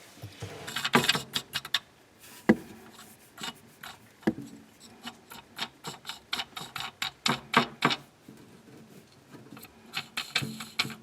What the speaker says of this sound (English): I'm going to put that nut on there and we'll tighten it up